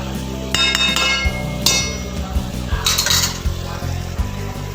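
Fish curry being stirred in a pot, with repeated close metallic clinks and knocks of a utensil against the pot, some sharper taps, over a steady low kitchen hum.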